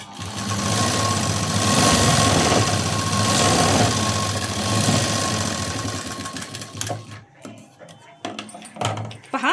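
A sewing machine stitches a cross strip of fabric onto cloth, running steadily and loud for about seven seconds, then stopping and restarting in short bursts, with a voice talking over it.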